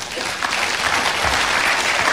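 Applause from a church congregation during an Indonesian sermon on the power of prayer in Jesus' name, a dense steady wash of clapping at close range lasting a couple of seconds.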